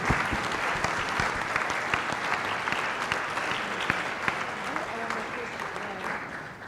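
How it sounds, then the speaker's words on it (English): Audience at a closing plenary workshop session applauding the organizers, a steady dense wash of many hands clapping that holds from start to finish without pause. "A big round of applause to all of you."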